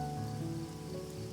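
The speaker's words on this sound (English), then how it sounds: "Oh no, it's gonna rain." Rain falls in a video game, a steady even hiss of raindrops that continues throughout over a low sustained musical tone.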